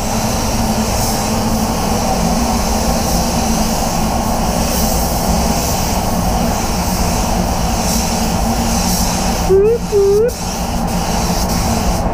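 A DV1 spray gun hisses steadily and loudly as it lays down base coat paint, a constant rushing spray with a brief squeaky interruption near the end.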